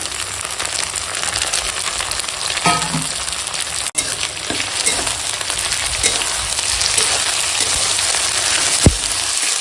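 Onion, tomato and ginger-garlic paste fry in a pan with a loud, steady sizzle and crackle. A few clinks and scrapes of stirring break through, plus one sharp knock near the end.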